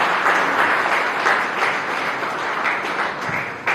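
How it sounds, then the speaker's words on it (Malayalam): Audience at the Tapovan Srividya spiritual gathering in Mavelikkara, 2024, claps together in a full, steady round of applause that stays loud and continuous throughout, with no voices over it. "അദ്ദേഹത്തിന്റെ ഹൃദയത്തിന്റെ ഭാഷ നല്ലൊരു കൈയടി സമ്മാനിച്ചു"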